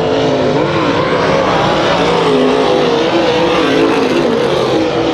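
Dirt track race cars roar at Kings Speedway during a heat race, a loud, continuous engine drone with shifting pitch as several cars battle closely for position.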